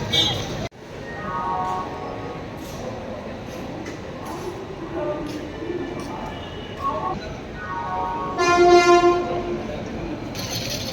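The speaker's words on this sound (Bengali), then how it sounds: "রাতের ব্যস্ততম হাওড়া স্টেশন" Howrah railway station at night: a rumbling train, a loud horn blast, steady crowd murmur and announcements echoing throughout.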